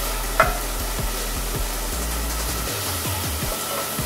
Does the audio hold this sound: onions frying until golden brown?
yes